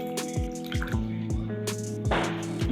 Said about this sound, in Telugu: చింతపండు కూడా ఇలా మనం గట్టిగా పిసికేసుకుందాం దీన్ని గుజ్జు.